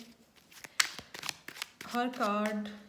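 Rider-Waite tarot cards are drawn and shuffled by hand, giving short dry flicks and papery snaps in quick irregular bursts, soft and close, with someone talking over them.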